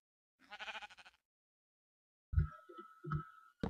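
A sheep in a Minecraft-style survival game bleats several times, short wavering baa calls heard clearly and close, alone without talk.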